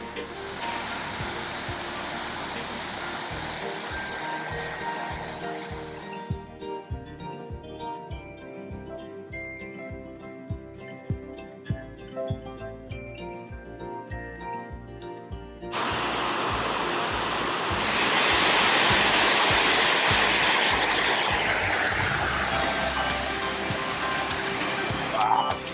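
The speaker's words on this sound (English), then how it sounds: "Man, this is a beautiful waterfall." A waterfall in Jasper National Park roars with steady, broad rushing water, close and loud, briefly masked by rhythmic clicking in the middle before the full churning rush returns even louder.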